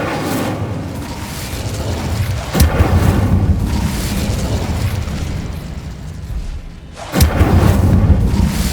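The Incendio fire spell in Hogwarts Legacy goes off as two sharp, booming blasts a few seconds apart, each followed by a rumbling tail over a steady background hum.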